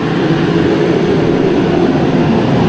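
A Mr. Heater Contractor Series propane and diesel forced air heater roars loud and close, a steady broadband whoosh of fan and burner with no pauses and no voices.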